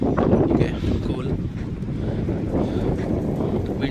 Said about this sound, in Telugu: విండ్స్ అయితే ఫుల్గా ఉన్నాయి